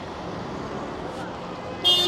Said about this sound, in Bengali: ও হর্ন মারতেছে, যাত্রী খুঁজতেছে